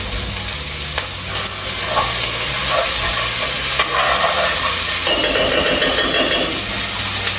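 Sofrito frying in a pot with rice, a loud steady sizzle and crackle with occasional stirring scrapes and a pot knock, close up and with no talking.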